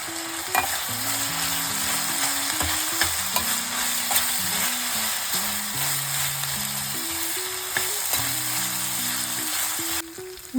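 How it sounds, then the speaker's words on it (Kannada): Byadgi chillies sizzle and crackle in hot oil with urad dal, chana dal and fenugreek for onion chutney, a steady close frying hiss with occasional spoon scrapes while soft music plays underneath. "ಬ್ಯಾಡಗಿ ಮೆಣಸಿನ್ಕಾಯಿ, ಖಾರದ ಮೆಣಸಿನ್ಕಾಯಿ ಹಾಕೊಂಡು ಸ್ವಲ್ಪ ಫ್ರೈ ಮಾಡ್ತೀವಿ."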